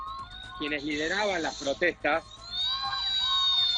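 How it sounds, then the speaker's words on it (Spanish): A fire truck siren passing on a street, a steady wail that holds on before and after a voice cuts in speaking close and loud in the middle. "perdón por el ruido, pero justo está atravesando un camión de bomberos."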